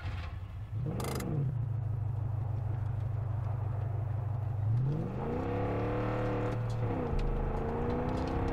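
Truck engine in the video game Far Cry 5, a steady loud drone that climbs in pitch as it revs up, settles, then revs again, with a brief sharp noise near the start and no talking.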